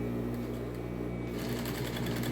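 A sewing machine stitching a dart in a women's tailored vest runs with a steady close mechanical hum and rapid needle rattle, picking up speed partway through.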